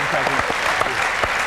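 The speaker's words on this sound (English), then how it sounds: "Give him a round of applause." Steady applause from a television studio audience at a football show fills the clip, dense clapping throughout with a few sharper claps standing out, no voices over it.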